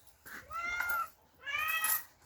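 A cat meows twice in a row, two clear, rising and falling cries close by with a short gap between them.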